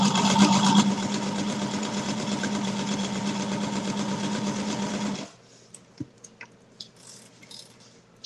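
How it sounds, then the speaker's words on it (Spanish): Sewing machine stitching fabric pieces, a fast steady mechanical whir and rattle for about five seconds that then stops, followed by quiet handling clicks and small knocks. "igual vamos a hacer el pespunte de la misma manera"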